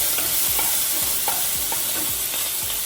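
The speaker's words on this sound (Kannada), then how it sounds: "ಜಿಂಜರು ಆಮೇಲಿಂದ ಬೆಳ್ಳುಳ್ಳಿ ಇದು ಸ್ವಲ್ಪ ಫ್ರೈ ಆಗಬೇಕು" Ginger and garlic frying in oil in a pan along with black pepper, a dense close sizzle punctuated by regular rhythmic scrapes of a spatula, no one speaking.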